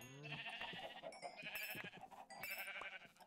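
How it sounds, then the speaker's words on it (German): Many Minecraft sheep bleat in an overlapping chorus, with repeated nasal baa calls layered over one another, fairly close and busy with no talking. "Viel zu viele Schafe."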